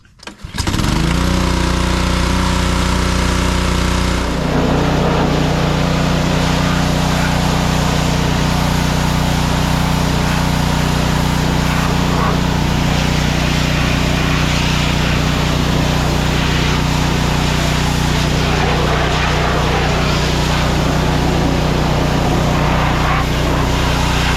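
A sand blaster pressure washer starts up and then drones loud and steady right up close, a constant engine-and-pump roar with no pauses and no talk.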